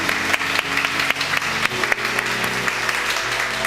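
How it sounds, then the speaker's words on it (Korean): Church congregation applauding warmly during a Sunday service announcement, a steady wash of many hands clapping at close range with no voices over it. "우리 뜨거운 사랑과 격려의 박수로 축복하도록 하겠습니다"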